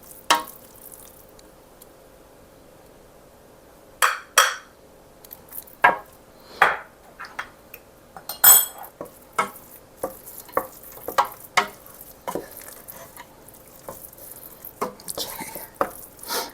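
Pumpkin being stirred together with cinnamon, allspice and nutmeg: scattered scraping and tapping strokes of a utensil in a bowl, close and sharp, after a quiet start.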